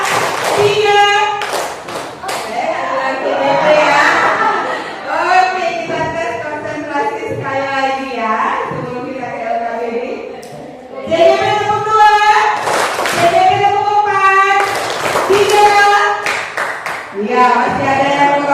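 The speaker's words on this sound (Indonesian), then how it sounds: "Tepuk tangan untuk adik kita semua ya" Students in a classroom clap in short rhythmic bursts as part of a clapping game, with children's voices chanting and calling between and over the claps.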